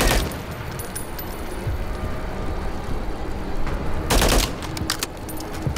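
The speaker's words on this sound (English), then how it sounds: "Who's shooting at me" Enemy gunfire in Call of Duty Modern Warfare III crackles in sustained bursts, a steady rattle of shots with a louder flurry near the end, no talking over it.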